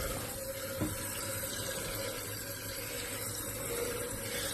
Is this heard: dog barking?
no